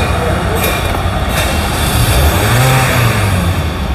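A used Hyundai Sonata's engine turns over and settles into a steady, close low rumble that swells slightly midway, with no one talking.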